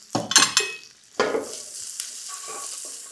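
Chopped onion, carrot, cabbage and capsicum stir-fry in a hot pan for street-style Indo-Chinese egg noodles: loud close bursts of sizzling as the vegetables hit the oil and are tossed, settling into a steadier hiss with faint utensil scrapes.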